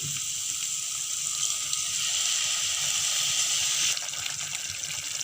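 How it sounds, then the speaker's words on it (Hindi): Water pours steadily into a pan of lotus stem curry gravy with a bright, splashing gush that carries on for several seconds before easing slightly. "अब इसमें डालेंगे हम पानी।"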